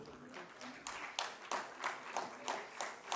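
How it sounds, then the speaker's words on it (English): An audience at a parliamentary awards ceremony claps for honourees, a moderate, fairly distant applause with rhythmic, regularly spaced peaks, as though many people are clapping roughly in time. "Now I request, please clap for them."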